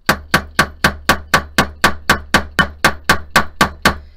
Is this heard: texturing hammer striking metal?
yes